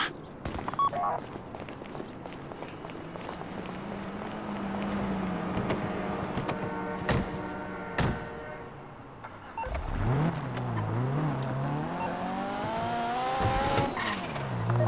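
A car in GTA V drives in a game heist mission, engine droning and rising in pitch with tyre squeals and skids, fairly quiet and steady with a brief dropout midway.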